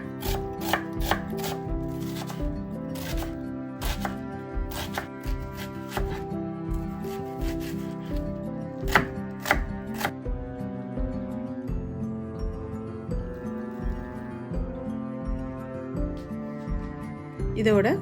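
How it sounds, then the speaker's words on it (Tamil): A large red onion is chopped into small pieces on a board for fish cutlets, brisk rhythmic knife taps repeating close up throughout, with a strand of music playing underneath. "ஒரு பெரிய சைஸ் ரெட் ஆனியன் எடுத்து சின்ன சின்ன கட் பண்ணி கிழங்கோட சேர்க்க போகிறேன்"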